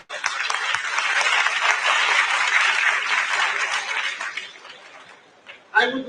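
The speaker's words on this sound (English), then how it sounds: "Let's have a big round of applause for all our brothers and sisters out here." Audience at a youth summit on human fraternity and compassion applauding, a dense sustained burst of clapping that fades toward the end before a voice begins speaking.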